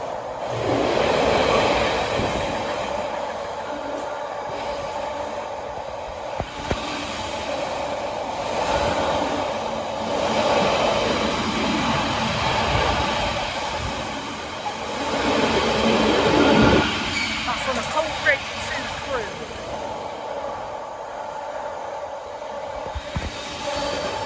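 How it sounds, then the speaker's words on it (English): Two British Rail Class 90 electric locomotives run through Preston station at night on a freight service, a loud sustained rumble with rail clatter and a brief wheel squeal, swelling and easing as they pass close by, with no talk. "coming up now are two Class 90s, here we go"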